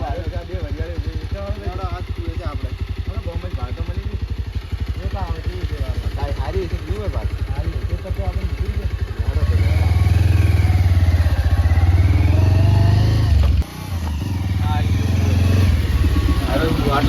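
A motorcycle engine runs close by, a steady putter that swells into a louder, revving roar partway through, with voices talking over it.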